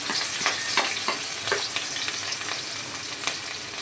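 Onions and chillies frying in hot oil with cumin and asafoetida for Gujarati-style batata poha, a steady bright sizzle with soft stirring taps throughout, close up.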